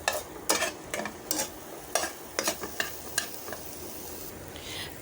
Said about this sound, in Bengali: এখন মরিচ আর পেঁয়াজটা ভালো করে ভেজে নেব।